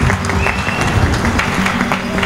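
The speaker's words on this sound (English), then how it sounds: "can I give a round of applause for my fellow judges" Dense applause from a crowd at the Miss Caribbean UK 2020 pageant, steady and fairly loud throughout, with a few voices mixed in.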